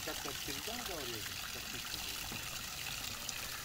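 Water pours and trickles steadily on the slopes of Mount Athos, a constant close rush filling the background while people talk over it.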